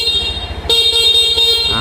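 Honda Scoopy 2021 scooter horn tested at dealer handover, sounding as a loud, steady electric honk that starts abruptly partway through and holds until the end, with a low engine idle running beneath.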